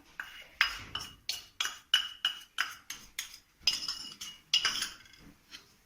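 Pancake batter made with baking powder and cooking soda being whisked in a bowl, with a steady run of about a dozen clinking utensil strokes against the dish, close and fairly loud, no talking.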